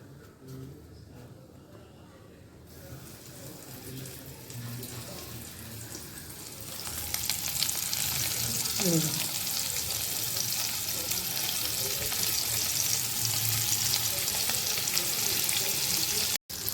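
Mandeli fish coated in fine zero-number semolina frying in a pan, a soft hiss at first that swells into a loud, dense, continuous sizzle from about seven seconds on, close and steady.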